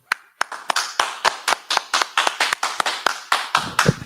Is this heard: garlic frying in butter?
no